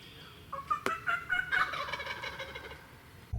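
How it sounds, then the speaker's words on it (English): A wild turkey gobbles during a spring turkey hunt in Indiana, answering a hen call. It is one loud, rattling gobble with a sharp crack near the start, followed by a fading tail of outdoor ambience. "Bobby, you know, did a little bit of a hen call, and man, he gobbled great big"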